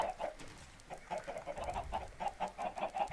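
Minecraft chickens cluck repeatedly in a steady run of short, quiet calls from a flock penned in a game-built chicken farm.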